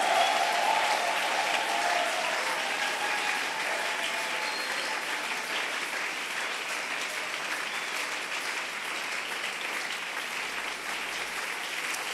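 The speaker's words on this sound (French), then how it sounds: "poussez encore très très fort des cris de joie" A church congregation claps and cheers in sustained, dense applause with shouts of joy, loud at first and easing slightly but continuing steadily for the whole stretch, no speech over it.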